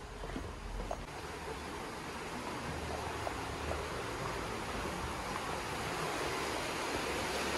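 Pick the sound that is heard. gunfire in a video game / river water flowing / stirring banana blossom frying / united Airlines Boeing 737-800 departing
river water flowing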